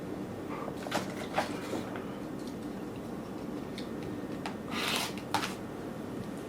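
Fabric for a flower pillow is cut along a quilting ruler, giving a few faint, soft scraping crunches in close, quiet surroundings.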